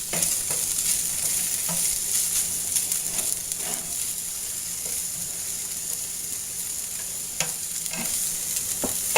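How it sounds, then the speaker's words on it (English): Browning ground turkey sizzling in a frying pan while being stirred, a steady close hiss of frying with soft scraping strokes of the utensil throughout, no voices. "We're going to come back over here and we're going to stir our turkey."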